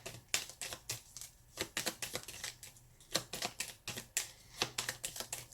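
Astrology cards being shuffled by hand: a steady run of crisp, papery slaps and flicks in an uneven rhythm, close and fairly quiet, with no talking.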